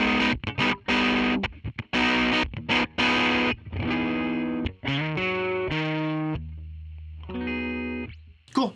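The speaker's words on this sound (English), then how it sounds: "That's definitely a vintage type of distortion where it sounds like the tone is crumbling into itself." Electric guitar played through a vintage Fender amp simulation with distortion, a string of sharp slapped chords and choppy stabs that break off abruptly, then a few longer sustained notes ringing out, loud and close with no talk.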